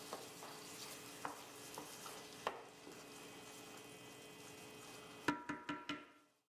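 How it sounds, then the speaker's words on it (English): Kalamata olives being stirred into a spaghetti squash dish, with soft scraping and faint sizzling throughout, then several sharp knocks of a spoon against the pot near the end. "Stir the Kalamata olives to combine."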